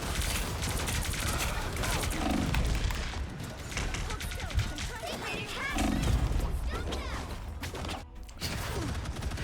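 Heavy weapons firing in a video game, a dense, continuous barrage of gunshots and booms that lasts throughout, with a voice talking over the gunfire.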